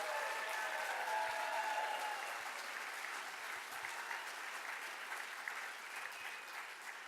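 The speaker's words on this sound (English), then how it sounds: "one more round of applause for all of our artists" An audience at an arts prize award ceremony applauds the finalist artists with a fairly soft, steady round of clapping that carries on for several seconds, slowly thinning toward the end.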